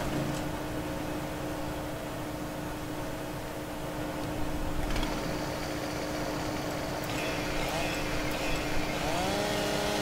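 A chainsaw runs in the video game Farming Simulator 17 during forestry work, a continuous buzzing engine drone that stays steady and moderately loud throughout, its pitch rising briefly at one point.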